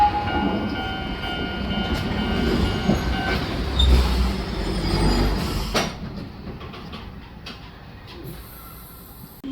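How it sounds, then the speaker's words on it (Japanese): A Japanese commuter train rolls into a station and slows with rumbling wheels and faint squeals, a steady rail noise at moderate distance, easing off near the end. "電車が駅に到着しました。"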